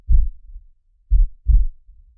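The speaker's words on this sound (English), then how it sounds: "Push the heartbeat, will you, please?" Heartbeat sound effect played on a radio show: three deep, thumping low beats, an isolated one followed after a pause by a quicker pair, loud and dry with silence between.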